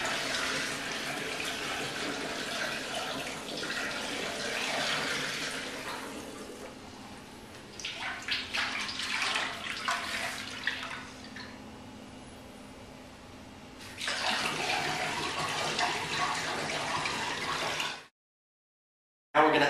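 Tap water pours steadily into a carboy through a funnel while topping up a pumpkin ale homebrew batch, a continuous broadband rushing that dips briefly mid-way, resumes strongly, then cuts off abruptly near the end.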